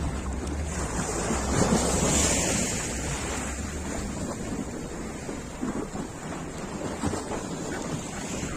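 Steady wash of Black Sea waves breaking on the shore at Lanzheron beach in Odesa, with wind rushing across the microphone throughout, no voices.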